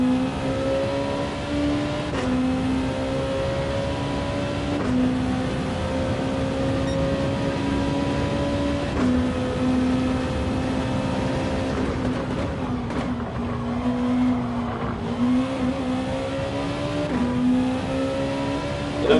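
Race car engine in Gran Turismo 7 during a Gr.2 Cup league race, droning steadily near and loud for the whole stretch, with repeated rises and drops in pitch as gears shift down and the revs climb again.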